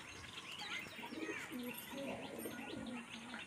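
Pigeons in a loft coo in soft, repeated low murmurs, mixed with scattered chirps and faint rustling from other birds nearby, a busy but quiet chorus throughout.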